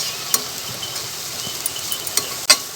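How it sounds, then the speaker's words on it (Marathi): Masala of red chili powder, turmeric and garam masala fries on a low flame in a pan for a cluster bean and potato curry, with a steady close sizzle and a few sharp spoon clinks against the metal. "आता आपण हे बारीक गॅसवरती मसाला परतून घेऊ"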